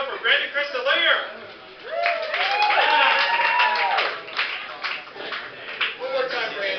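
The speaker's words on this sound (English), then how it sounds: "Good round of applause." An audience at a comedy night claps and cheers, applause rising and fading in bursts while a voice speaks over it through a sound system.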